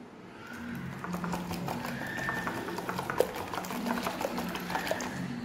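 An egg is beaten with a quarter cup of brown sugar in a home kitchen, giving a steady run of quick, soft clicking and sloshing strokes close by, with no talking.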